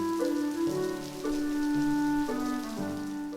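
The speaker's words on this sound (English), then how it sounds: "we can start to see and hear the rain." Steady rain effect in the farming video game Cozy Crops, a soft continuous patter of rain on surfaces blended under a gentle melodic music loop.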